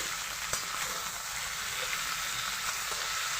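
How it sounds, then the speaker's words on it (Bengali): Chicken pieces fry with salt in a pan as they are slowly stirred, a steady, dense hiss of sizzling oil that runs unbroken throughout, close and fairly loud with only faint knocks from the stirring. "লবণের সাথে চিকেনটাকে ভালো করে ভাজবো"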